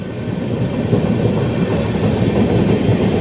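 An Indian Railways train rolls along while easing its speed, a loud, close, continuous rumble of wheels and carriages with a steady rattling texture and no talk.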